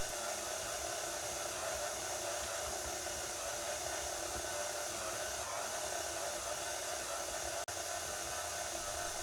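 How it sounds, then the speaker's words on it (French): A stand mixer kneads brioche dough at low speed, giving off a steady, even motor whir that runs unbroken throughout, with one sharp click near the end. "Laissez ensuite votre robot pétrir pendant environ 20 minutes à vitesse lente."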